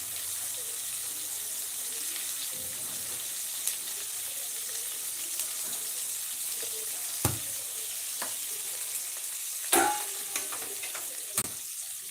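Tomatoes drop into sizzling oil in a home kitchen pan, with cut brinjal waiting, for a brinjal gravy; a steady low frying hiss runs throughout, with a few sharp clatters and splashes.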